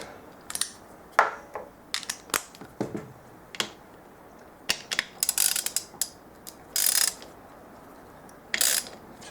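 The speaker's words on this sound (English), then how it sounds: "Tighten it up with a 14mm." A 14mm spanner ratchets and clicks as it tightens a gear change arm retaining bolt on a ZS155 pit-bike engine, in short irregular bursts of sharp metallic ticks, close and fairly quiet.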